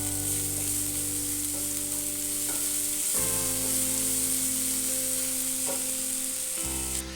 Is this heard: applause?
no